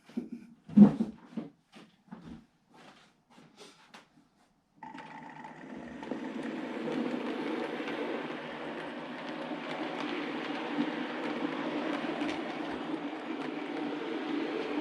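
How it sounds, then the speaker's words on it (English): A model railway train hauling Western Region chocolate and cream coaches rolls along the track, a faint, steady rumble and whir building after a few light clicks and taps, continuing evenly and close. "I'm gonna put the train like this and give you a shot of it heading back to the station"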